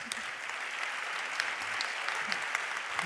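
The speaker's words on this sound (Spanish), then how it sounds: "Un aplauso para ella, por favor." Steady applause from an audience at an Oxfam Intermón event in Madrid, dense and even clapping that fills the whole stretch with no voices over it.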